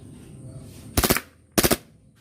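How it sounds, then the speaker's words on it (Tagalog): A WE Glock 26 Gen 4 subcompact airsoft pistol fires two quick full-auto bursts of about three or four shots each, loud and close, separated by a short pause over quiet background. "Glock 26 full auto."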